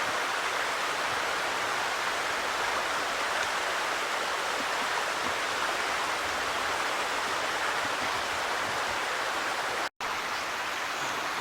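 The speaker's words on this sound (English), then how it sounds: "Cool little waterfall right there." Small waterfall and stream in a nature preserve glen, a steady broadband rush of falling and flowing water that holds constant throughout with no talking.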